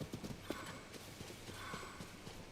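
Horse hooves clip-clop in a steady walking rhythm in the game The Legend of Zelda: Tears of the Kingdom, moderately close, with faint background ambience.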